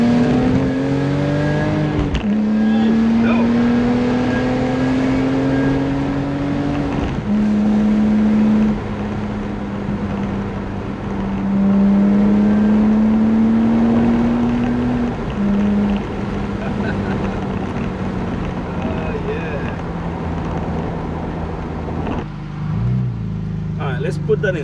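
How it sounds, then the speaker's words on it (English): A BMW E46 M3 engine pulls hard while driving, its tone climbing through several gear changes with drops between them, loud and continuous from inside the car. "let's go ahead and take this car and drive it a little bit"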